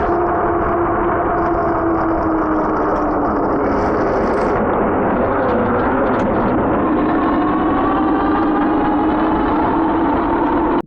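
Ridstar Q20 electric bike on its first ride, a steady whirring motor whine with a loud rushing wind roar, continuous and close, rising slightly in pitch partway through.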